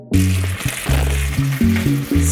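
Water hitting hot oil in a pan on a stove sizzles loudly and steadily, a close, crackling hiss with a low tonal hum running beneath it and no voices.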